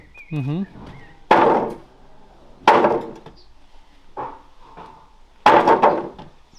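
Several heavy, dull blows at uneven intervals, each ringing briefly, with a short vocal sound at the start and quiet pauses between strikes.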